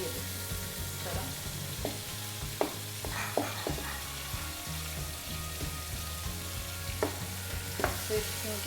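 Fish frying in oil for Karachi-style fish katakat, a steady low sizzle with scattered clicks and scrapes of a utensil against the pan, close and moderately quiet over a faint background hum, no talking.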